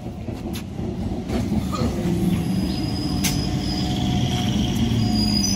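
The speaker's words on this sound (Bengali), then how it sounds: "ট্রেন ঢুকে গিয়েছে সুন্দরবন যাওয়ার জন্য" A train pulls into a station on the line toward the Sundarbans, arriving at dawn near Canning: a steady, loud rumble of wheels on rails fills the scene, with faint squeals and ambient station noise throughout.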